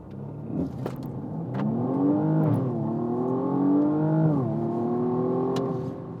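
A 2020 BMW M135i xDrive hot hatch accelerates hard from inside the cabin, its engine note rising, dipping briefly at a gear change and climbing again in a smooth, strong drone.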